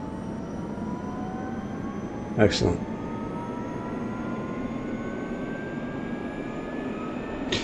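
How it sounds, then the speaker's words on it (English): Engine 2 of an F-15EX jet spools up in DCS, a steady whining drone with slowly rising tones, a brief sharp burst cutting through, and someone speaking briefly over it. "obviously engine 2 starting"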